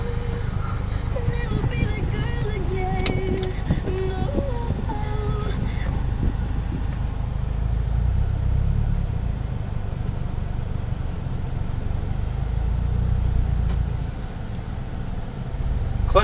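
A 2006 Mazda 6 with a manual gearbox on the move, giving a steady, fairly loud low rumble of engine and road noise throughout that eases slightly near the end.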